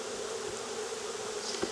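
Honey bees buzzing at a hive during an inspection, a dense, continuous drone of many insects close by with faint individual passes, no voices.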